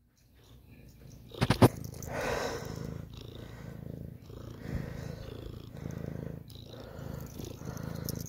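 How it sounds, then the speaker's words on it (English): Close, soft purring from a cat, a steady low rumble that continues for several seconds after a brief sharp noise near the start, with faint speech in the background. "We got a cat."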